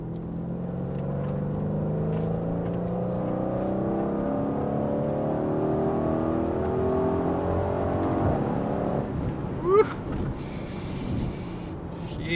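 A 2020 Mercedes AMG GLC63s Coupe driven fast around corners, its engine droning steadily from inside the cabin with rising pitch as it accelerates, continuous and fairly loud with no talking.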